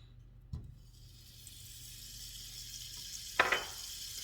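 Two tablespoons of softened butter melting in a pan before onions go in, a quiet, steady sizzle with a couple of sharp clinks of a utensil against the pan.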